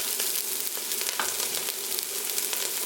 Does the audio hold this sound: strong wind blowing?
no